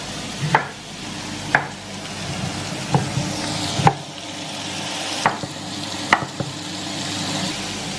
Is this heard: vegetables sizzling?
yes